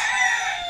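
Rooster crowing at a backyard poultry pen kept during lockdown, a short, loud, sustained call heard alone at close range.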